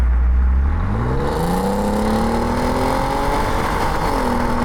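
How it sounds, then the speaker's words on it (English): An Audi TT Mk2 V6 on its stock exhaust revs hard, the engine note climbing steadily upward through a sustained pull, loud and close with a smooth rising whine and no talking. "And that V6 sounds amazing"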